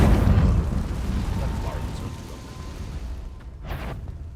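A fiery Confringo blast spell goes off in Hogwarts Legacy, a loud rumbling burst that fades into a lingering low roar with a brief crackle near the end.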